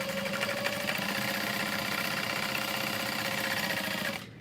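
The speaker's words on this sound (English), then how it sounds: "I'm just sewing like 1/8 of an inch from the edge" A sewing machine set to stitch length 5 runs a continuous seam close to the fabric edge, with a steady, loud mechanical whir that stops abruptly at the end.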